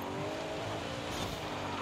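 Race car in Forza Horizon 5, an Ascari KZ1R, sliding through a corner with steady engine roar and a faint tyre squeal running underneath, continuous and close throughout.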